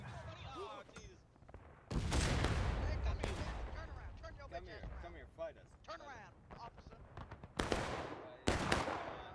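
Musket volleys ring out in the War of Rights video game during a large 250-player Civil War battle at Piper Farm, with repeated loud, crackling rolls of gunfire and scattered single shots over a busy, noisy battlefield.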